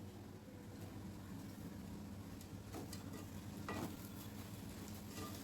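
Grated potato with sugar and salt being stirred in a pan, a steady sizzle running throughout with a few soft scraping strokes, close and even in level.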